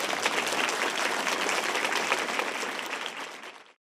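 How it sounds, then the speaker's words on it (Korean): Audience applause greeting the acting chief justice and judges as they enter a courtroom ceremony, a dense, steady wash of clapping that holds for about three and a half seconds before stopping abruptly. "모두 박수로 환영해 주시기 바랍니다."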